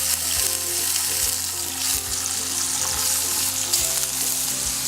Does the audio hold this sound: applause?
no